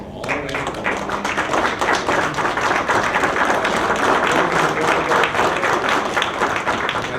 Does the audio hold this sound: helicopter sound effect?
no